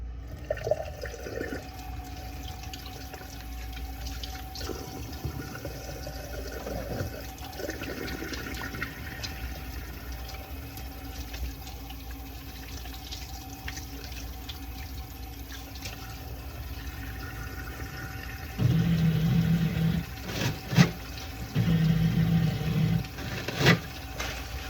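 Running tap water flows continuously while hands are washed at a clinical sink after measuring an infant, a steady rushing stream with brief louder surges and splashes near the end.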